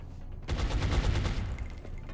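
A burst of automatic gunfire in the video game Long War, a dense rapid rattle of shots played close and loud against a low background hum, with no talking.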